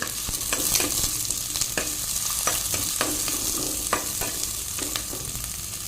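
Green chillies and ginger sizzle steadily in a hot oiled pan, loud and close, with repeated scraping strokes as they are stirred.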